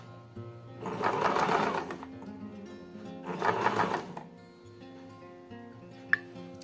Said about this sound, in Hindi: अब मैं इसकी सिलाई लगाऊंगी